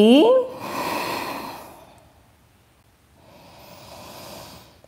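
Deep yoga breathing in a downward dog pose during an Ashtanga class: one long, close exhale with a rough, airy texture, a brief pause, then a softer second breath.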